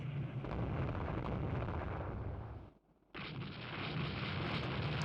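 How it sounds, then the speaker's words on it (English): Torpedoes strike a ship in the naval strategy game Rule the Waves II, a heavy rumbling boom of explosions that fades briefly into near silence before the deep roar cuts back in at full strength. "Takiwa was hit by a torpedo."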